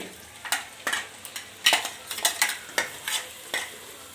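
A spoon stirs ground masala into chicken kurma in a pan, scraping and clinking in a run of sharp, irregular strokes over a soft background sizzle, close and clear with no talking.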